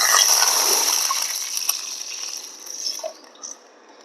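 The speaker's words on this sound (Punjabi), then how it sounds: "ਹੁਣ ਆਪਾਂ ਪਾਣੀ ਪਾਵਾਂਗੇ ਘਿਓ ਗਰਮ ਹੋ ਗਿਆ" Water poured into hot ghee in a pan erupts into a loud, bright hiss and spatter that gradually fades, with a few light clinks near the end.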